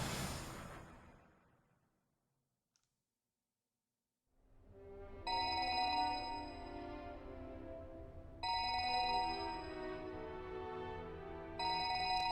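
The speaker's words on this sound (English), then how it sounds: "Taking out her cell phone, she dialed up Maria's number" A cell phone rings after a call is dialed in the video game 428: Shibuya Scramble. A brief rising tone fades into silence, then long electronic ring tones repeat in regular bursts at a moderate level, with no one talking.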